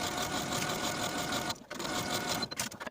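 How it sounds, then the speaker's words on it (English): A sewing machine stitches the side seams of a blouse, running in a fast, steady, close mechanical whir, pausing briefly midway and then starting again. "we're going to sew these seams with a 3/8 inch seam allowance"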